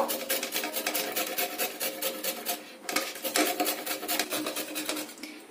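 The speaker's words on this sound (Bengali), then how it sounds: "এই গাজরগুলোকে একটা কুড়নির সাহায্যে কুড়িয়ে নেব।" Carrots rubbed on the small side of a hand grater make a steady rhythmic rasping, with repeated scraping strokes close to the listener and no talk.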